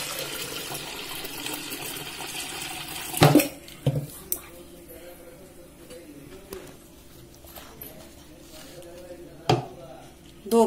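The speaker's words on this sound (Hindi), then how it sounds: "अब इसमें पानी डालेंगे।" Water pouring into a pressure cooker holding mixed dal, a steady splashing gush in a home kitchen, with a few sharp metallic clanks of the pot and utensils, close and moderately loud, no voices.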